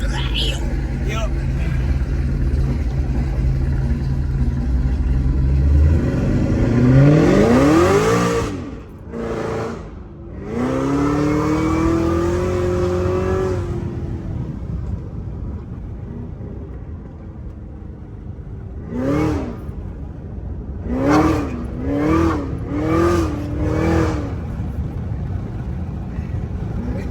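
An 800-horsepower CTS-V race car engine, heard from inside the cabin, roars loudly through two long rising pulls broken by sharp gear shifts, then a quick series of short revving bursts, with occasional voices underneath.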